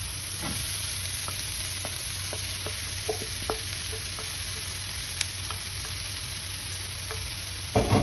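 Grated beetroot sizzles steadily in a hot pan, with scattered scraping clicks of stirring across it and a louder knock of the spoon near the end, all close and without voices.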